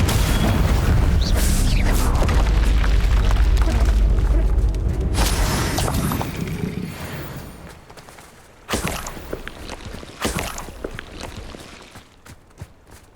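A Confringo spell explosion in Hogwarts Legacy on Nintendo Switch hits as a loud, deep boom that rolls for several seconds and then fades. Sharper crashes and pops follow in its wake.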